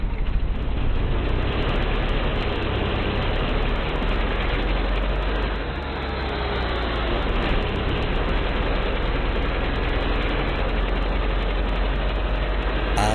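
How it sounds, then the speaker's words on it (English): Octane car engine from the Rocket League video game played back in slow motion, a deep, loud, steady grinding rumble with a slight dip midway, continuous for about thirteen seconds. "And in slow motion?"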